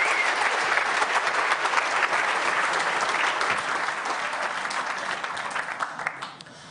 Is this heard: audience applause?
yes